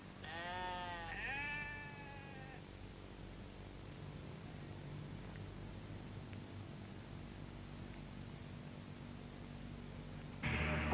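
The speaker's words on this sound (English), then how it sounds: "Sheep do well on the otherwise barren mountain pastures." Sheep bleating on a barren mountain pasture on the Inishowen Peninsula, two wavering bleats back to back at the start, moderately near, then only steady hiss until a brief louder noise at the end.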